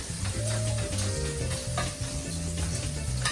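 Bacon sizzling in a pan for carbonara, a dense steady crackle and hiss heard up close, with a low tonal hum running underneath and no one speaking.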